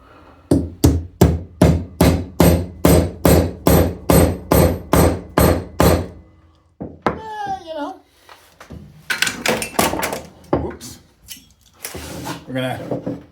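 Rapid, evenly spaced hammer blows, a dozen or more close and loud, drive a wood wedge in, followed by a brief squeaky sound, then a few more bursts of knocking and handling.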